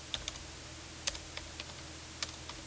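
Typing on a computer keyboard, a sparse run of sharp, close key clicks in irregular rhythm over a faint room hum.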